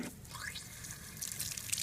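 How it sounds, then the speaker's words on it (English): Water runs and trickles while lab glassware is rinsed clean of soap bubbles, a close, continuous splashing and dripping with no talking. "you have to wash all the bubbles out until it's bubble free."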